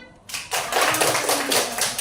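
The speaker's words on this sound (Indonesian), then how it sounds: "Ya, tepuk tangan" A school class bursts into brisk applause, many hands clapping together in a dense, lively patter that continues steadily.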